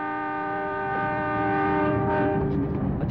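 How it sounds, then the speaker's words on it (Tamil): A departing train sounds its horn in one long, steady, loud blast with a rich harmonic chord, then fades as rumbling rail noise takes over. "ட்ரெயின் கிளம்பிடுச்சுப்பா"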